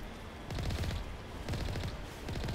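Rapid minigun fire from the Mako vehicle in the Mass Effect video game, sustained bursts of dense rattling shots with brief gaps between volleys, loud and continuous.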